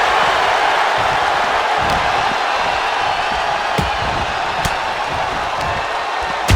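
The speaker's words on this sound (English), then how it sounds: "What a raucous crowd here tonight." A raucous arena crowd at a video game wrestling show, a steady loud roar of cheering and chatter with a few sharp slams cutting through now and then.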